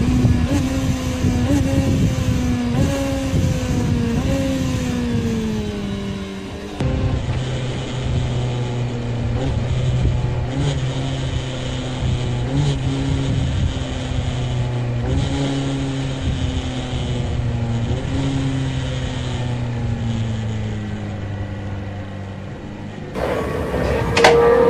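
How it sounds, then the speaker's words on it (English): Engine downshifting without the clutch on a track, with throttle blips matched to the gear lever: a steady, fairly loud drone that steps up and down in pitch through several gear changes before cutting off abruptly near the end. "Downshifting without the clutch is another way of handling it. Careful timing of the throttle blip and the gear lever makes it surprisingly easy and smooth"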